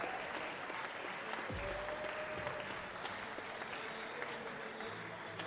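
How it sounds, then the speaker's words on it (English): Spectators at the Canadian Men's Squash Open applaud squash player Victor Crouin, a sustained, even wash of clapping from a crowd, with a brief voice heard faintly underneath. "Victor Crouin, round of applause."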